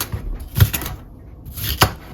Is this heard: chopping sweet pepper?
yes